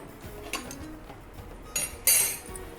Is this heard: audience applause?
no